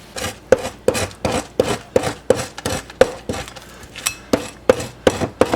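Elbow adze, a Southeast Alaskan native totem-carving tool, scraping a gar head in rhythmic strokes, about a dozen sharp rasping scrapes at a steady pace, close and loud, no talking.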